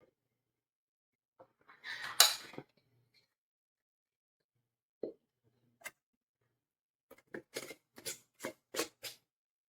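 Glass canning jars of cream style corn set down one after another into a pressure canner, giving a scrape at first, then a few isolated clinks and a quick run of sharp taps near the end, close and otherwise quiet.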